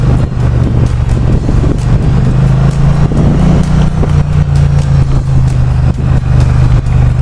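A Triumph Street Cup Bonneville 900 motorcycle being ridden, its steady engine drone loud and close with a constant low hum and road rumble throughout, no voices.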